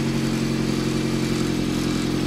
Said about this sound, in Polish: Silnik kręci.